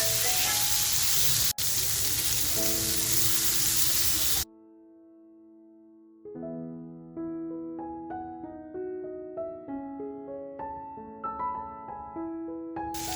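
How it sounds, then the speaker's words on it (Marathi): Rawas fish with masala sizzles loudly in a pan after being flipped, a dense hiss that cuts off abruptly and gives way to a melodic music passage. "एक बाजूनी आपली मच्छी फ्राय झाली आहे. पलटी करून घेते."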